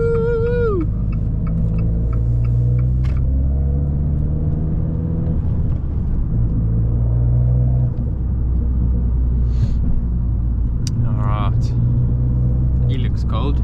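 An Abarth 595 in sport mode cruises with a deep, steady engine rumble from inside the cabin, while someone talks over it and brief chirping sounds break in.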